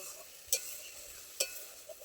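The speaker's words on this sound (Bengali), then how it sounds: "বন্ধুরা, এটা একটু কষিয়ে নিচ্ছি, এর থেকেও তেল ছেড়ে দিলে তখন আমি পটলগুলো দেব" Spice paste for potol chingri sizzles steadily in hot oil, a soft continuous frying hiss broken by two sharp scrapes of a spatula stirring the masala in the pan.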